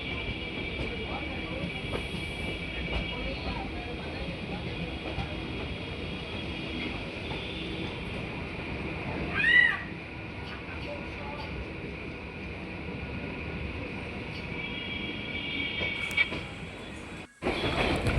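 A Kolkata metro train rolls into Burrabazar station, a steady underground rumble and hiss with a brief squeal near the middle and a sharp drop near the end.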